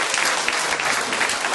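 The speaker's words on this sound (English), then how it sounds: "give our Carnival Queen, her attendants, a really big round of applause" Loud, dense audience applause for a Carnival Queen and her attendants at a 60th carnival presentation, a continuous wash of many hands clapping close by with no pause.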